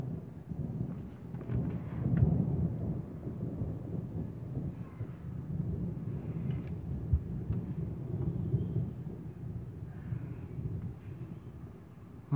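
A thunderstorm over Villers-Bocage in Calvados in June 2019 sends a steady, deep rumble of thunder rolling on for the whole stretch, swelling slightly at times, with no voices over it.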